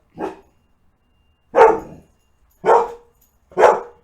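Dogs roughhousing at home give four sharp barks or yips, a lone one first and then three evenly spaced bursts after a pause, close and fairly loud with silence between and no talk.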